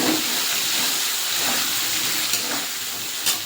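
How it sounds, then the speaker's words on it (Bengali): A wet paste of ground ginger, coriander and cumin hits hot oil in a pan, giving a steady loud hiss and sizzle with faint crackles throughout. "এটা আমি দিয়ে দেবো মশলাটা তেলে"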